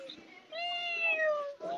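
A person imitates a cat's meow with the voice, a drawn-out, wavering mewing call following a short burst of speech, close and fairly loud.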